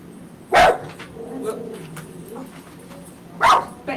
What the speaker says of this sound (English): Oh, there's a dog on the loose out there.